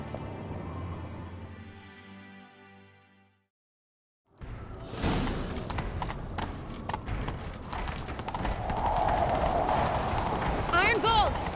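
Horse hooves clatter in a fast gallop in The Witcher 3 after a brief silence, with rushing motion and clanking gear, accompanied by music and other game sounds.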